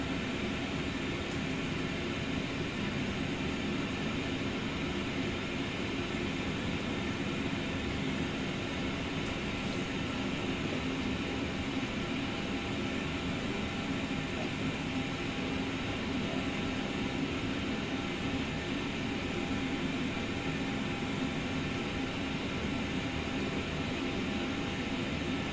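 An airliner taxiing in Microsoft Flight Simulator 2024 produces a steady, unchanging engine drone and broad rushing hum, held at an even level throughout with no distinct events and no talking.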